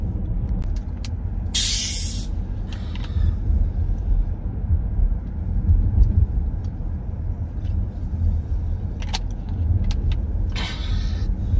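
A car is driven out of a garage, its engine a steady low rumble close by, broken by a few short, sharp hissing bursts near the start and end.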